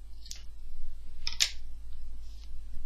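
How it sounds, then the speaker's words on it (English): Scissors snip through yarn at the end of a crocheted blanket, rug or bag: a few short, crisp close cuts with quiet pauses between. "So I'm going to cut the yarn"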